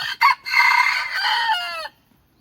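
A bantam rooster crows once, loud and near, in a long strained call that trails off, preceded by a short clucking note.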